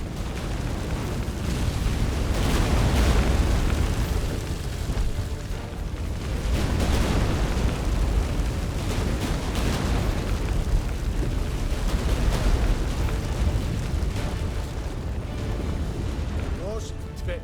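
A heavy, continuous rumbling roar with crashing bursts, loud and sustained like a quake shaking the ground, an earthquake in the video game The Witcher 3.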